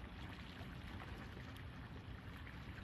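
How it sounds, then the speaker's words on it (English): Water pours and gurgles steadily through a drainage outlet near a pond, a faint, constant rushing wash with no breaks. "Yes, there's the drainage"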